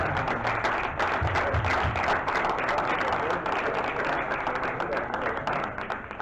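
Audience applause at a Spanish book presentation, a dense steady patter of many hands clapping for the whole stretch, fairly close and loud, with a bit of low voice murmur underneath early on.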